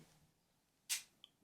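Nikon FM2 film camera shutter firing once, a single sharp mechanical click close to the microphone with a faint tick just after, in an otherwise quiet room.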